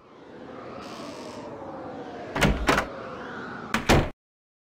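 An old radiator in the Nancy Drew Haunted Carousel video game gives a steady hissing rush, broken by a few sharp metallic knocks, before cutting off abruptly.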